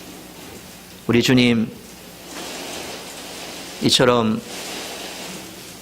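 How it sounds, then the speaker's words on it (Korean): Rain pours down as a steady, broad wash of noise throughout, while someone speaks over it in two short bursts. "갑자기 비가 오니까 놀라지요."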